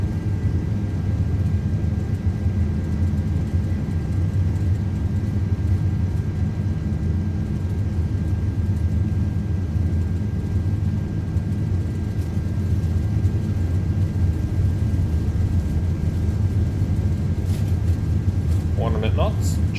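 Airbus A330 jet engines spool at takeoff thrust, a steady deep low rumble heard from inside the cockpit throughout, with faint tonal chirps near the end.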